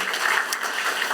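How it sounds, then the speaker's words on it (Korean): Congregation applauding during a Korean church pastor's installation thanksgiving service, a soft, even wash of clapping heard from some distance for about a second. "하나님께 박수로 영광을 돌리시겠습니다"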